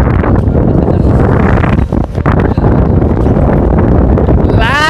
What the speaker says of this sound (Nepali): पुरै धक्का ल्यायो क्या हावाले जो